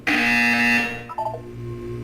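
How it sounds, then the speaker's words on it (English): A loud electronic buzzer from the video game Portal 2 sounds alone for about a second, a steady harsh tone that cuts off, followed by softer game tones and low ambient hum. "You will hear a buzzer."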